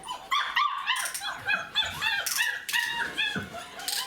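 A young orange male puppy whines and yips without letup, high-pitched, nasal and fairly close, in a steady string of rising and falling cries.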